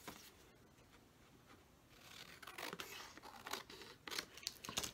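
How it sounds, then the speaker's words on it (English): Scissors snip through a paper card, a series of crisp, close cuts growing busier and sharper toward the end, with no voices present. "I'm just going to cut this guy out."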